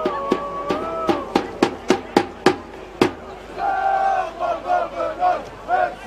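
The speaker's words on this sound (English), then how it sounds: "Vocal crowd, lots of singing, lots of noise." Football crowd at a Melbourne Knights versus South Melbourne match, with a rhythmic chant of sharp, evenly spaced shouts and clapping, then sustained singing from the stands; a commentator's voice is heard over it.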